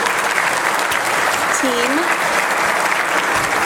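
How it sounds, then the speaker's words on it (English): Sustained applause fills the room at a police awards luncheon in Burbank, steady and dense, with a brief spoken word audible over the clapping. "We can have a quick round of applause for my"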